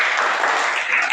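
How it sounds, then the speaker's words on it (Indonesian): Classroom applause for a student group, a brief, loud, dense burst of many hands clapping close by, sustained evenly for about a second without talk. "tepuk tangan untuk kelompok 1."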